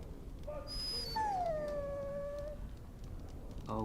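A dog in the video game Dragon Age: Origins gives a drawn-out, falling whine over low ambient noise, with a shorter yelp just before it.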